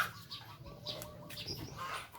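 Chickens in a coop give soft, scattered clucks and chirps with brief wing-flapping, quiet and close-sounding over a low background hum.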